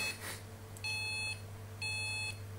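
Two crisp bursts of high electronic beeping from a small in-ear device, each about half a second long and evenly spaced, fairly quiet over a constant low background hum with no talking.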